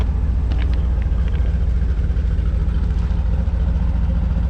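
A truck engine with no exhaust fitted idles steadily with a loud, constant low rumble, raw and unmuffled, with a few faint clicks near the start.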